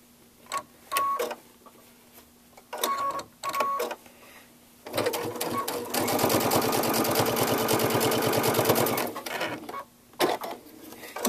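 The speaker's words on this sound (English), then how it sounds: "So now we have 1, 2, 3, 4 thicknesses of fabric that we're sewing on." Brother DreamWeaver sewing machine with a MuVit foot stitching through four layers of fabric: a few short stitching bursts, then a long steady whirring run of rapid needle strokes before it stops, followed by a couple more brief spurts.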